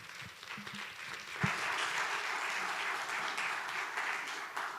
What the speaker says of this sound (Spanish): recibamos con un aplauso a Mónica Olvera de Oxfam.